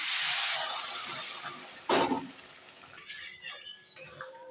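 Hot water poured into a pan of frying spices, potatoes and rohu fish roe, a loud steamy hiss that fades, followed by a burst of sizzling and some clinking.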